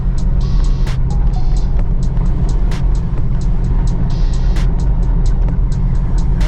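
A truck drives a rough forest road on the Mogollon Rim, its steady loud engine and tire rumble continuous, with repeated sharp rattles and clunks from the bumpy surface.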